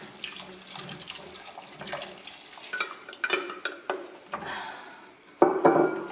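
A spoon stirs vegetable stock in a pot, giving wet swishing and clinks against the metal that grow louder toward the end, with no talk.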